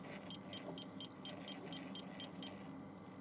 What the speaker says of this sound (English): We've got the alarm going off saying that there's a possibility of clipping.